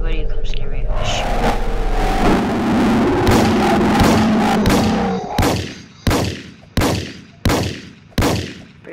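Gunfire in a Roblox video game: a loud, chaotic stretch with a voice talking, then about six sharp, evenly spaced gunshots, each ringing out before the next.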